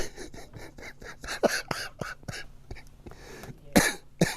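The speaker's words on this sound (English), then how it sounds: "I've still got a cough and a cold." A series of repeated coughs from a person with a cold, some sharp and loud, others softer, spaced irregularly and close to the microphone, with a throat clearing among them.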